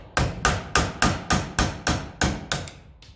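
A hammer strikes a punch to drive out brass or copper brake shoe rivets on a Massey Ferguson 35 tractor, ten sharp evenly spaced metallic blows close up, the last one softer.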